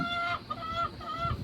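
A chicken clucking in a few short, repeated calls, fairly close and clear, with no talking.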